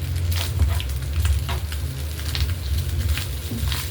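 Fish roe frying in a pan gives a steady, loud sizzle with crackling pops throughout, joined by a low rumble from the stove and occasional soft stirring scrapes.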